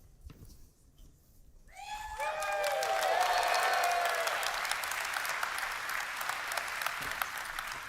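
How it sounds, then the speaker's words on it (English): Audience applause at CitizenCon, a live game-development presentation event, rises quickly after a sung or whistled cry and settles into sustained clapping from a large crowd, continuing steadily to the end. "Hört auf zu applaudieren, bitte."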